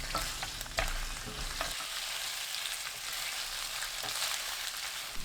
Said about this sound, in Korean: 달구지 않은 팬에 식용유 2큰술, 곤약 넣고 센 불로 3분 볶습니다.